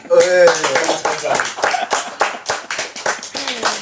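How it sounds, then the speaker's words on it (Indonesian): A small studio audience clapping as an indie singer is welcomed onto a horror-story talk show, uneven bursts of hand claps under a presenter's voice speaking throughout. "tepuk tangan"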